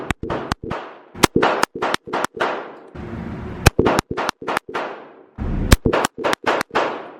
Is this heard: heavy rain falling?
no